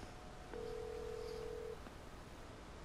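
A single long telephone ringing tone sounds during a call, a steady pure beep lasting a little over a second at moderate level over faint background hiss.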